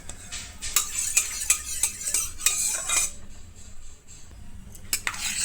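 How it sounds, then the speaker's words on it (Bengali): A spoon scrapes and clinks against a wok as oil heats for a garlic chutney, giving a quick run of metallic taps and scrapes that thins out and then picks up again near the end. "আর কড়াইয়ের মধ্যে বেশ খানিকটা তেল দেবো"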